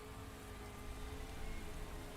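Steady rain falls in a Formula racing video game, a constant dense wash with a low engine-like hum beneath, loud and unbroken with no talk.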